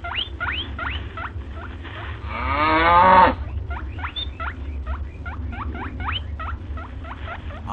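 Cartoon cows grazing in a quiet field give a single drawn-out moo near the middle, set among a long series of quick, repeated squeaky chirps over a low, steady background.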